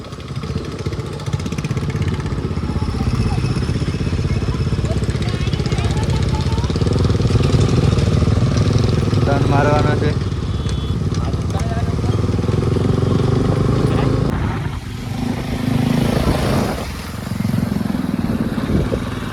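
A motorcycle engine runs steadily throughout, close and fairly loud, as a rider heads toward the Tulsishyam temple; someone talks over the engine noise.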